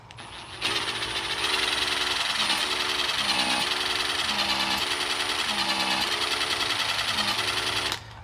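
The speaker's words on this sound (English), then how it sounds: "Let me go ahead and put my impact on there." An impact wrench spins the oil pump from a torn-down Chrysler Pentastar 3.6L engine, giving a loud, steady mechanical whir with a pulsing rattle that starts abruptly and runs for several seconds before cutting off.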